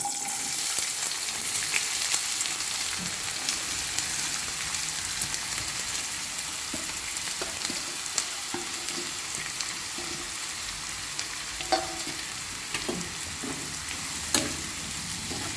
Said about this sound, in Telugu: ఈ తరిగి పెట్టుకున్న ఆనియన్స్, పచ్చిమిర్చి ఉన్నాయి కదా, వీటిని కూడా ఫ్రై చేస్తాం